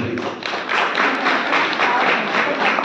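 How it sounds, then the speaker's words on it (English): A room full of people applauds at an honoring event for a couple called forward, with steady, dense clapping swelling slightly after the first half-second and continuing evenly. "We clap to them"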